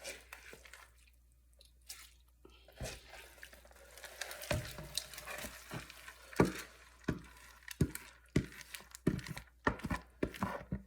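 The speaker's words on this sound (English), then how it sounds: "The rice has been washed, so I'm just going to add my rice to it" Washed rice poured into a pot of jollof rice made without tinned tomatoes, then stirred, giving quiet wet drips, crackles and scraping taps that come in irregular bursts, close by, with no talking.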